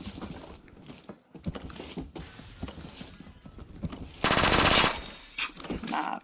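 Gunfire in the Phantom Forces game: a sustained, loud automatic burst near the end stands out, with scattered sharper shots and clicks before it at moderate level.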